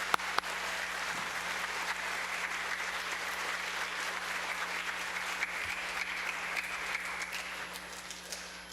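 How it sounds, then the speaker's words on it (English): A school audience at a SEAS School student event gives steady, even applause for students representing lifelong learners, the clapping a continuous moderate wash over a faint electrical hum. "Let's give them a round of applause"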